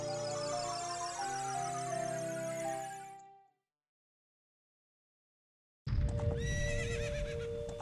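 Epona, the horse in a Zelda video game, whinnies in game audio, a loud neigh over music and effects, then a few seconds of silence before the game sounds return.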